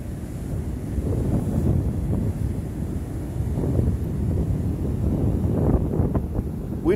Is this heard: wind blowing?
yes